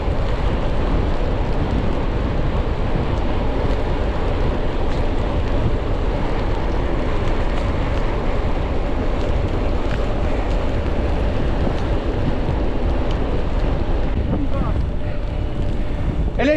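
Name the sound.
boat motor running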